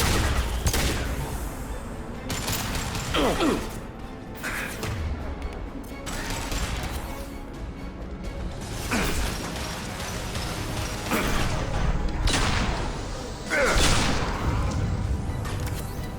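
Sustained gunfire and heavy booms from Mass Effect Legendary Edition combat, loud bursts of shots and blasts repeating every couple of seconds over a dense, continuous battle din.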